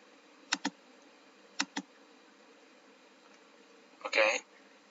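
Sharp keyboard or mouse clicks while working in CAD software, pressing the J shortcut: two quick pairs of taps, then a short louder cluster of clicks, all faint and close against a quiet room hum.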